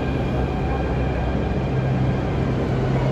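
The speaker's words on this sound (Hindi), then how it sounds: "फिलहाल ये है जयपुर की मेट्रो" A Jaipur Metro train at a station gives off a loud, steady rumble and hum that holds evenly throughout, with no voices.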